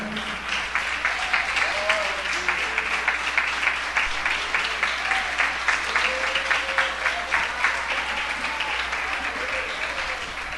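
A church congregation applauding with joy, a long, dense stretch of rhythmic clapping from many people, with voices rising and calling out through it.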